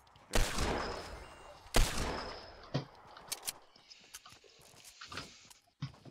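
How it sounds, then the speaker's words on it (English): Hand cannon gunfire in the Fortnite video game: two loud single booming shots about a second and a half apart, followed by scattered quieter pops and clicks. "Another hand cannon."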